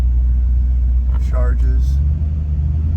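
A 1966 Ford Mustang engine rumbles steadily from inside the car as it drives, a low constant drone with a person speaking briefly over it.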